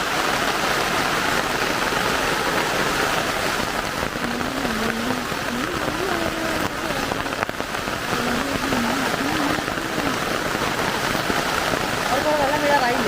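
Steady summer rain pours down in a continuous dense hiss, loud and close, with faint voices and a few chirping calls heard under the downpour.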